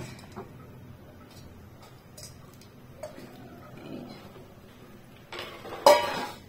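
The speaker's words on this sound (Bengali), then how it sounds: "আস্তে আস্তে আলুগুলোকে সব দিয়ে দিলাম এর মধ্যে।" Potato pieces are added one by one into a pot of onion- and garlic-free chana masala curry gravy, giving scattered soft clinks, taps and plops against the cookware, then a louder clatter near the end, with no talking.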